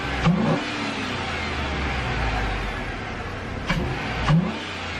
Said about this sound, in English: I can hear the throttle body.